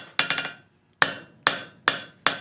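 Metal taper being forged under a hand hammer: a quick triple strike, a pause, then four evenly spaced ringing blows on the anvil, crisp and close with no talk.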